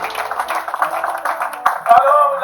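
A church congregation claps in a steady rhythm under loud singing and voices to acclaim the Lord during a French-language worship service.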